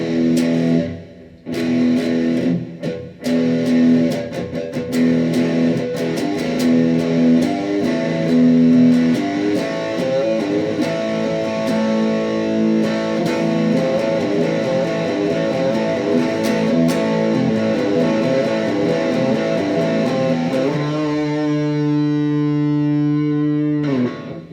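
Electric guitar played through a Danelectro D-1 FAB distortion pedal, loud and fuzzy, with a series of strummed chords and palm-muted stabs, then a long sustained chord ringing out and slowly decaying at the end.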